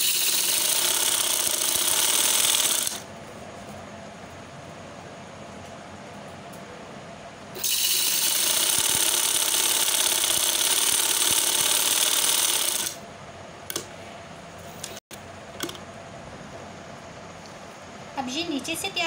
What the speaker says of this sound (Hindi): बिल्कुल किनारे किनारे पे आपकी सिलाई आनी चाहिए।